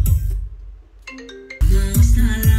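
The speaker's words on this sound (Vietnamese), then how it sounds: "Vâng, thì em mới vừa có điện thoại một tí nha các bác." A mobile phone ringtone plays as a short melodic tone pattern beside a Luxman L68A amplifier and Marantz 1250 Gold amplifier under test, loud and close, with a pause before a fuller burst resumes; no one speaks.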